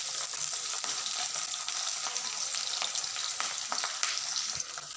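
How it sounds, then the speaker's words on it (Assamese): Onions sizzle steadily in hot oil with whole cumin, with occasional scraping stirs of a spoon through the pan, close and continuous with no talking. "পিঁয়াজখিনি আমি এতিয়া গোল্ডেন কালাৰ নোহোৱালৈকে লৰাই থাকিম।"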